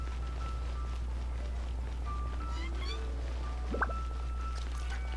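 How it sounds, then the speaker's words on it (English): A cat meows in a video game, one short rising call standing out once against a steady low hum, faint amid quiet background sounds. "Ah, cat."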